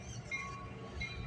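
CN and VIA train passing Brantford VIA station, a steady rumble of rolling cars with faint metallic squeals, moderately loud and continuous, with no talking.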